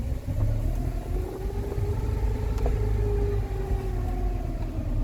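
A Rover 45 Impression S3 car with a CVT gearbox, slightly low on transmission fluid, pulls away from rest, its engine a steady close rumble with a smoothly rising drone and no voices.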